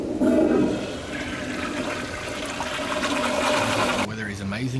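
A toilet flushing in a video game: a loud rushing gush of water that settles into a steady swirling drain, cuts off sharply near the end, and gives way to softer background sound with faint voice-like murmurs.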